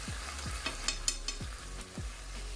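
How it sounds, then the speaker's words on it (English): Curry powder and turmeric sizzling in hot oil for an Ital vegetable stew, a steady close frying hiss with a few light scraping stirs and soft clicks of a utensil against the pot. "you just want to burn this in the oil a little bit"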